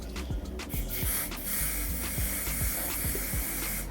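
Hair spray hisses onto a lace wig in a steady, close, continuous spray lasting several seconds, with faint music underneath and no talking.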